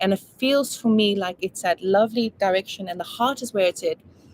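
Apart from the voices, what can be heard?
No everyday noise stands out behind the speech.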